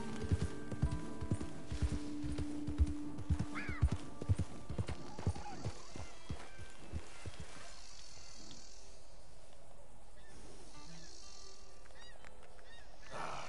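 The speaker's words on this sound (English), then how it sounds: "Come on, horse." Hooves clip-clop rapidly and loudly from a horse in the Red Dead Redemption video game, with a whinny, then the hoofbeats thin out and fade into quieter ambient game sounds.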